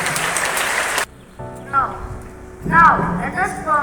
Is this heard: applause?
yes